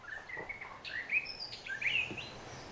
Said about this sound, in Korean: 부지런한 새들이 숲에 아침을 알립니다.